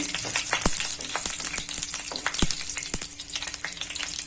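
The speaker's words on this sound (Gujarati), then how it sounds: "2 તજના ટુકડા અને 2 તમામ પત્ર। બધી વસ્તુ આ રીતના પેલા આપણે ફ્રાય કરી લેવાની છે।" Whole cinnamon pieces and bay leaves, with chillies and black cardamom, fry in hot oil for jeera rice, giving a steady close sizzle broken by a few sharp pops and clicks.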